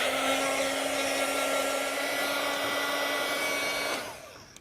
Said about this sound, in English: So I'm gonna dry this really quick with my little heat gun here.